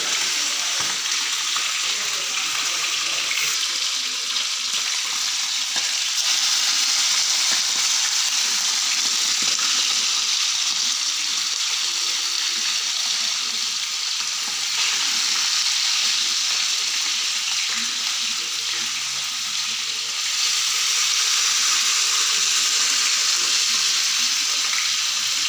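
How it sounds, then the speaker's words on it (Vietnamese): Stream fish fry in a hot pan in a home kitchen, a loud, continuous sizzle and crackle of oil that runs unbroken and alone, swelling slightly in places. "Nên là vậy mình chiên cá là bạn ơi."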